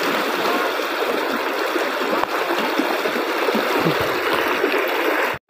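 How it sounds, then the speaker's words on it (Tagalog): A strong provincial river current rushes past, a loud, close, continuous hiss of churning water with a brief knock partway through, and no voices. "Sobrang lakas ng agos."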